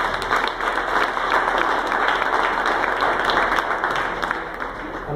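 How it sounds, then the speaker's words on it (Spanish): Loud, sustained applause from a crowd at a municipal event where business owners receive support, dense clapping filling the whole stretch without a break. "creo que también es importante que le demos un fuerte aplauso"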